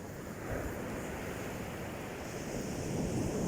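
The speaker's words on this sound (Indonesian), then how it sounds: "Semakin siang semakin menggila ombaknya. Ada 7 meter ini ombaknya." Big ocean waves, around seven meters high, surge and roar at a rocky fishing spot, a continuous loud wash of surf with wind buffeting the microphone.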